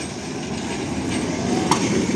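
A number 1 tram rolls along a Lviv street, a steady low rumble of wheels on rails with a brief squeal near the end, fairly close and loud without speech.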